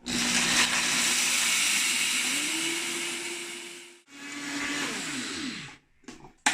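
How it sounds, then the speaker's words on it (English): Dried rose petals whirring in an electric dry grinder, a loud steady motor drone that winds up, cuts off briefly, then spins again before stopping with a few clicks. "I have a dry grinder, so it will really grind it up nicely"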